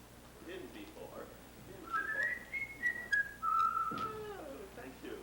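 Whistling on stage during an amateur 1981 theatre production of Pirates of Penzance, a clear rising and falling whistled melody over a faint background with a few quieter voices.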